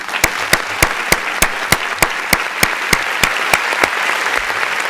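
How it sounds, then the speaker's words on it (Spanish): Sustained applause fills the space from a studio news panel, dense steady clapping with sharp regular louder claps standing out roughly every third of a second, close and continuous. "A ustedes hoy le vamos a dedicar el aplauso de la patria desde nuestro panel"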